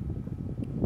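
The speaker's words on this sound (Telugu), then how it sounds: "బయట గాలి సౌండ్ ఎక్కువ వస్తున్నది" Wind blows outdoors in remote Aboriginal land in Australia, a steady low rumble of gusts buffeting the microphone throughout, with no clear talk over it.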